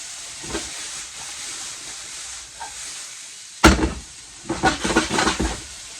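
Pepper cooks in a hot pan with a hissing sizzle that jumps up sharply partway through, then crackles in bursts; no voices.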